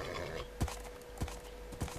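Minecraft horses clip-clop in a field, with three evenly spaced hoof thuds over a steady background hum, loud and close.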